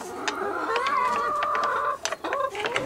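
Chickens at an off-grid backyard coop cluck and chatter close by, a busy overlapping run of calls with a sustained warbling note before scattered clucks resume.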